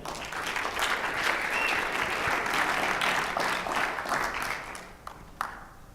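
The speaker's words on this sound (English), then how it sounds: "Round of applause." Audience applause for the winners at the 2017 SDL Developer Conference hackathon: dense, steady clapping from a crowd that holds for about five seconds, then thins to a few scattered claps.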